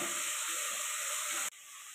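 Lentils and vegetables sauté in a pan for banana flower kootu, giving a loud, steady sizzling hiss that abruptly drops to a quieter simmering hiss partway through.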